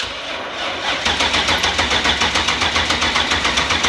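A BMW E34 fitted with an S62 V8 cranks over with a steady, rapid rhythmic chug that grows louder, close up and with no talking.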